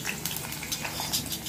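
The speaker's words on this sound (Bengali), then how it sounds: "তেল গরম হয়ে গিয়েছে, এখন আমি এখানে দিয়ে দিব 3 টেবিল চামচ পরিমাণ পেঁয়াজ কুচি এবং খালি করে রাখা 3টি কাঁচামরিচ" Chopped onions and green chillies sizzle in hot oil, a steady hiss and crackle with small pops throughout, fairly quiet and continuous with no talking.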